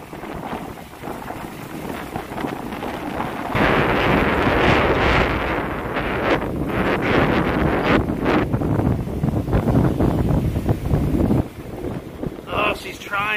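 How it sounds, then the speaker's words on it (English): Heavy wind buffeting the microphone during a supercell storm in heavy rain near Warren, Pennsylvania, a loud continuous rumbling roar that surges stronger midway and stays rough throughout. "Very windy, I'm sorry."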